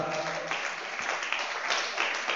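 A church congregation claps weakly and sparsely during a sermon, the thin scattered applause mixing with cheering voices and some talk.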